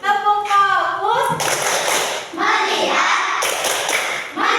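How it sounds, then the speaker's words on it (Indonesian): Schoolchildren in a classroom clap hands in a rhythmic group focus-clap chant led by a teacher, bursts of brisk clapping alternating with the teacher's voice. "Tepuk fokus."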